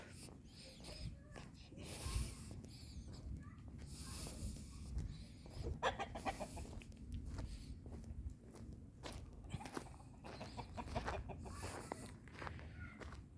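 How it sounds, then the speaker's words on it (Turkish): Chickens and roosters clucking around a village farmyard, mixed with footsteps and some background talk, a steady busy layer of poultry sounds throughout. "Evet horozlar tavuklar var burada."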